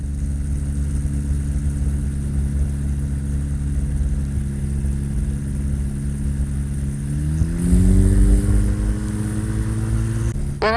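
A model aircraft engine with a three-blade propeller runs steadily at full throttle, loud and close, with a droning buzz that rises in pitch partway through, then cuts off abruptly at the end.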